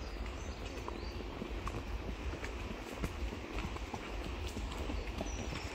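Horse hooves clip-clop steadily while a horse is ridden on a trail during trotting, with a quiet outdoor background and rhythmic, moderately distant hoofbeats continuing throughout.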